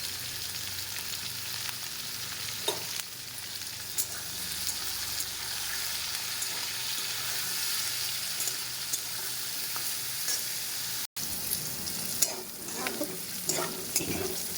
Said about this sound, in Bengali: আলু ভাজাটা হয়ে গেছে, এবার নামিয়ে নেব।